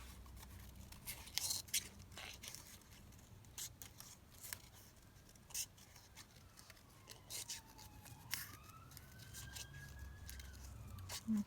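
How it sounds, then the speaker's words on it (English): Scissors snip steadily through paper, cutting out a blue flower, with a run of faint, close, crisp clicks and rustles in an otherwise quiet room. "let's just cut this blue flower out"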